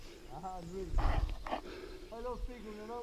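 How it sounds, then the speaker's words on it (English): A dog passes along a muddy, boggy enduro trail, giving a few short barks and yips close by, mixed with rustling and a burst of louder noise, while people talk throughout. "Nice dog coming through there as well."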